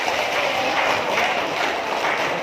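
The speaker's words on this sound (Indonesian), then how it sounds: "Tepuk tangan untuk beliau satu kita." Audience applauding loudly and steadily for a legislative candidate from Kabupaten OKU at a public gathering, a dense clatter of many hands clapping throughout.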